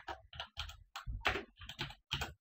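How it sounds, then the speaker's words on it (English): Keys are pressed on a computer keyboard while a Windows 8.1 system image backup command is entered, a series of eight or so distinct, close, fairly loud keystrokes in an uneven rhythm without talking. "in order to create your system image, you will need to type in this command"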